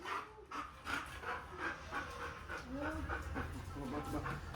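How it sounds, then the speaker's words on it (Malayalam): A Belgian Malinois police dog pants and whimpers close by, with short yelping barks and whines over a steady background murmur that may include faint voices. "ഇത് ഞങ്ങളെ നോക്കി കുരയ്ക്കുകയൊക്കെ ചെയ്യുന്നുണ്ട്."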